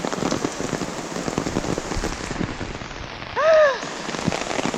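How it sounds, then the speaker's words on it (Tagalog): Steady, dense rain pours down throughout in Camiguin, Philippines, with a brief rising-and-falling tonal chirp breaking through near the end. "Ewan ko kung matutuloy pa kasi sobrang lakas ng ulan."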